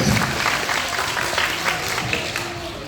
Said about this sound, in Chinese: 给掌声